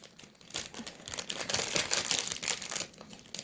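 Thin plastic bag crinkling and tearing as it is ripped open to free sticky slime, a busy run of crackly rustles and pulls lasting several seconds, close and fairly loud with no talking.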